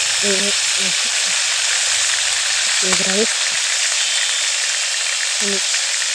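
Ginger garlic paste fries in hot oil with a loud, continuous close-up sizzle, while a few short bursts of speech come through over it.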